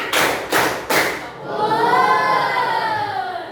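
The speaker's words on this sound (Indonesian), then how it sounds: "Tepuk 3." A school class claps a third round of the 'tepuk semangat' cheer routine: three sharp, loud, close group claps in quick succession, followed by a lingering ringing, rising tone.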